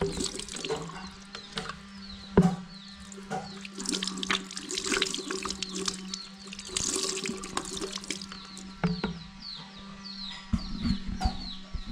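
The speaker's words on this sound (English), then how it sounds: "let's wash my hand over here" Hands washed under a running water tap, a close splashing stream that rises and falls with irregular splashes, with faint animal and bird sounds in the background.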